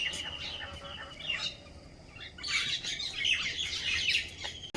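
Birds feed nearby with repeated bright chirps and tweets in quick, overlapping bursts, busiest toward the end, over faint background noise.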